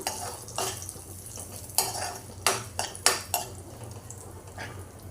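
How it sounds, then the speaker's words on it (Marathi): Sliced almonds and cashews being stirred and fried in ghee in a pan, with a low steady sizzle under several sharp scraping clinks of a metal spoon against the pan. "मी बदाम आणि काजूचे कापं करून घेतली आहेत, ती चांगली फ्राय करून घेऊया आपण यांना"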